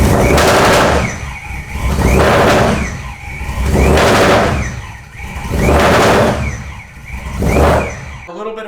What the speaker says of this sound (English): I think it'll crank for a second, but I don't think it'll run.